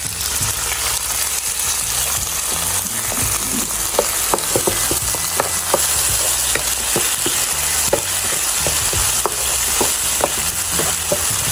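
Water hitting a hot wok of stir-frying Chinese cabbage (bok choy) for an oyster sauce dish sets off a loud, steady sizzle, with sharp clicks and scrapes of a spatula stirring throughout.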